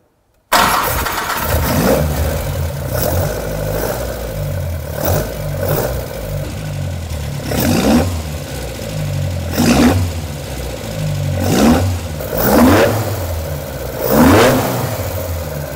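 A Ford Escort MK1 engine cranks and catches, then settles into a loud, close idle broken by repeated throttle blips that rise and fall every second or two, with no voices.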